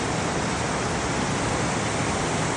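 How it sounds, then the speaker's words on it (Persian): A mountain river fed by snowmelt from Khalenu peak rushes loudly and steadily, a dense unbroken roar of water close by with no talking. "از برف‌های قله خلنو یه رودخونه خیلی قشنگی تشکیل شده"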